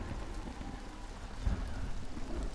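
Rain starting in Hunt Showdown, a soft continuous patter of rainfall with a faint low rumble in the middle, quiet and steady, with no talking.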